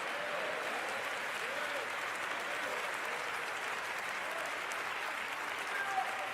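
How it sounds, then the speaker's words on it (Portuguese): A congregation at a Sunday church service claps in a sustained, even wash of applause, moderately distant, continuing without a break. "dê um aplauso a Deus em nome do Senhor"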